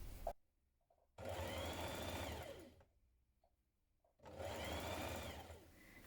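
A sewing machine stitches a sweatshirt neckband with a long basting stitch in two steady bursts, each about two to three seconds, separated by a quiet pause. The motor whirs loud and close, with no talking.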